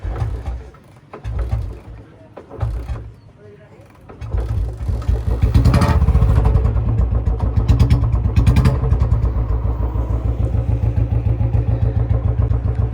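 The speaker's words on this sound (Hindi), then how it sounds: "तो भाई पहली किक में स्टार्ट है बुलेट अपनी।" A Royal Enfield Bullet motorcycle kicked to life and idling with a steady low thumping beat, preceded by a few mechanical clacks and clatter, with someone talking over the running engine.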